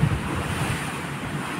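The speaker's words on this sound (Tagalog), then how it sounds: "yung lakas ng hangin" Strong, roaring typhoon wind blasts steadily across the microphone, a dense rushing noise with no letup, storm gusts outdoors at night.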